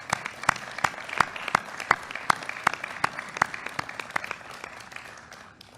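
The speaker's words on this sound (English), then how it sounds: "we should clap for the families" A small crowd claps together, sharp overlapping hand claps in a brisk rhythm that gradually thins and fades toward the end.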